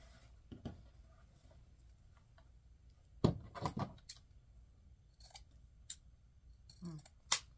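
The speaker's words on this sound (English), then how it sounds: "I'm just going to cut it at an angle like that." Scissors cutting thin mesh ribbon at an angle, a few faint close snips and crisp rustles scattered over a quiet background.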